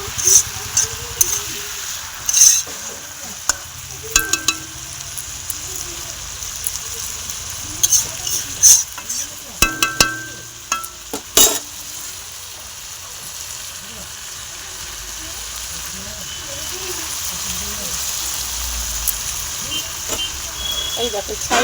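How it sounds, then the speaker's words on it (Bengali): Spice paste frying with onion greens in a pan for an ar fish curry, a continuous soft sizzle broken by repeated clattering stirs and scrapes of a metal spatula. "এবার দেখো এই মশলাটা পেঁয়াজ পাতার ভিতরে সুন্দর করে এরকম ভাজা একদম ভেজে নেব"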